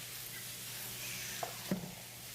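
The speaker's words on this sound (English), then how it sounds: "we're going to take our onions here. We're going to drop them in and really start to saute" Onions sautéing in a pan during a live cooking demo, a steady close hiss of sizzling oil with a couple of brief utensil taps toward the end.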